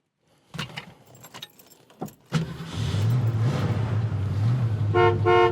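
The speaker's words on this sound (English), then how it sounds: "Tack works, horn works." A 1973 Ford Mustang Fastback at a classic car dealer: keys jangle and interior clicks come first, then the engine idles steadily and the horn gives several short, loud toots near the end.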